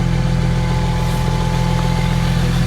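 Harvester engine idling steadily while a pig is weighed, a loud constant close rumble with a deep low hum and a faint tonal whine, no voices over it.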